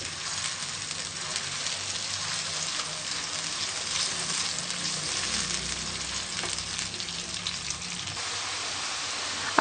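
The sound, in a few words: kofta frying in a pan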